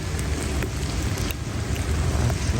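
Rain falls steadily on a wet Wednesday in an outdoor civic mall under renovation, making a dense, even hiss with scattered faint drips and no voices.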